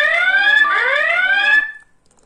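At full 100% volume, an X-Sense prototype security kit alarm blares one loud, close warbling siren sweep for about a second and a half, then cuts off into silence.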